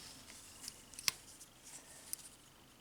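An NKVD-style folding knife with a back lock gives a single sharp click near the middle, with a fainter click later, both close and quiet against near silence.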